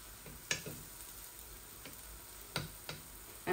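Pitha frying in a little oil make a faint, close sizzle broken by sparse sharp ticks and pops at irregular intervals, with no voices.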